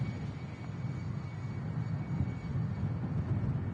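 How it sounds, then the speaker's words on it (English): An EasyJet airliner fitted with sharklets approaches to land at Manchester Airport, its engines a steady low broadband roar, distant and even throughout. "EasyJet with some sharklets on board. Coming in next to land."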